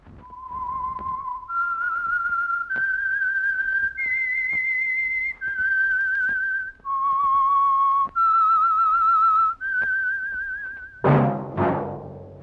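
A radio drama theme is whistled as a slow, wavering melody of sustained notes, clear and alone, followed by a short burst of orchestral sound at the end.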